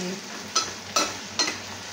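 Pechay sautéing with canned tuna in a pan: a steady sizzle of frying with three distinct stirring scrapes of a utensil against the pan, close and fairly loud.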